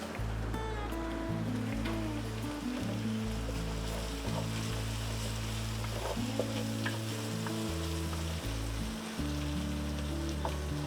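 Anchovies and onions frying in a hot pan for pasta puttanesca, a steady close sizzle with stirring scrapes, under a loud low hum that runs throughout.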